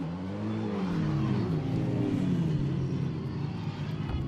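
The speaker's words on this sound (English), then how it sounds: "As you can see, they're starting the engine, so I'll get out of the way" Formula Regional Americas race car engine rumbles and revs at NOLA Motorsports Park, a close, loud, steady idle with rising and falling pitch, heard alone without talk.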